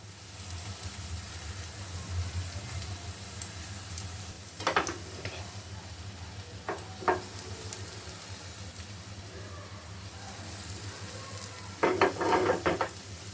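Batter roasting on a hot pan, a steady low sizzle throughout with a few sharp clinks of a utensil against the pan at intervals and a brief clatter near the end.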